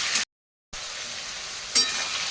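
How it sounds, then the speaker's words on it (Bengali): Shrimp fry in a pan, giving a soft, steady hiss of oil that cuts out to complete silence for about half a second and then resumes, with two brief louder spatters. "চিংড়ি মাছটা একটু ভাজা ভাজা হয়েছে"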